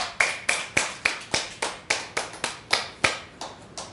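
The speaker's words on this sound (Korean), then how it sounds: "우리 하나님께 감사의 박수 올립니다" Church congregation clapping in thanks during a Sunday service: sharp, evenly spaced unison claps, about three per second, each with a short room echo, fading slightly toward the end.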